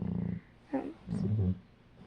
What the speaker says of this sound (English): My dog's snoring right now.